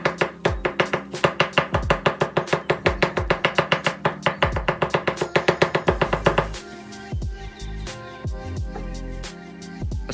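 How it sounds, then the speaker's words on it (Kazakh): Garlic being finely chopped with a knife on a board: a fast, even run of crisp close taps for about six seconds, then looser, quieter scraping and chopping. "осылай жақсылап ұсақтап турап аламыз пышақтың көмегімен"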